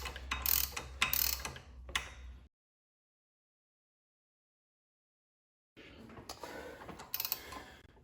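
Ratcheting hand tool cranking onto a Mustang GT500 supercharger pulley, bursts of close mechanical clicking and clatter at the start, then a long silent gap before more ratchet clicks resume.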